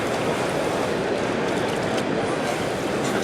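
A gold pan full of water is shaken hard during placer-mining panning at a demonstration, making a continuous close sloshing and swishing wash that stays steady throughout.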